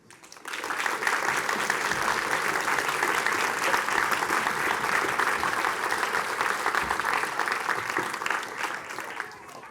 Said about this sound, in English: a very, very big thank you and another clap for Dr. Ciara